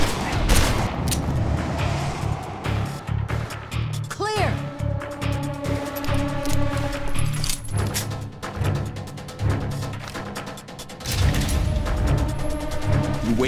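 Heavy gunfire in the video game Call of Juarez: The Cartel, a loud sustained fusillade of rapid shots and bursts that carries on continuously while characters shout over it.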